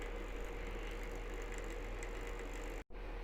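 A Hornby E2 shunter model locomotive's electric motor whirs with a steady mechanical ratchet-like buzz at close range, cutting out abruptly for a moment near the end before resuming.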